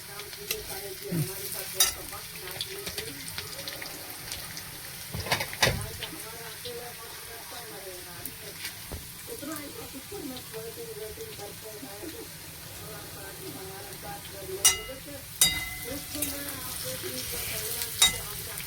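Small fish frying in a little oil with ginger and garlic, a steady soft sizzle with occasional stirring scrapes and louder clatters, while a person talks intermittently over it.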